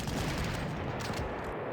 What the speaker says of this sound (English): That was an anti-tank cannon.